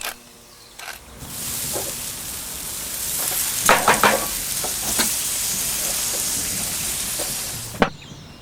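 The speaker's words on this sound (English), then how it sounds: "Season well and fry over a medium heat for 4 to 5 minutes until golden at the edges and well softened" Food frying over medium heat on a Weber Q grill for jambalaya, a steady close sizzle with a few sharp clatters of stirring.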